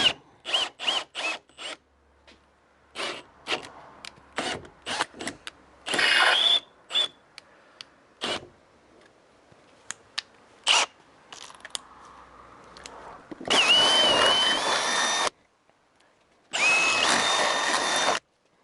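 A power drill bores through the body panel of a widebody two-door Alfa Romeo Giulietta, coming in repeated close, loud bursts of varying length with short pauses, ending in two longer sustained runs.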